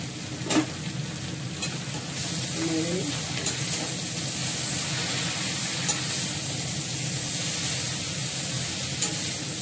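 Curry sizzles steadily in a pan after a little water is added, a continuous bright frying hiss with occasional sharper spits and pops and faint stirring noises.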